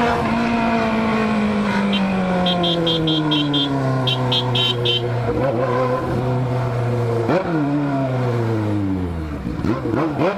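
A car engine in a street race, loud and close, its drone falling steadily in pitch before surging back up in a brief rev near the end, with faint chirps over it.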